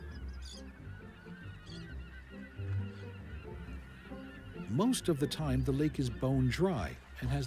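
A low voice murmurs at first, then a flock of geese breaks into loud, overlapping honking calls that repeat rapidly near by.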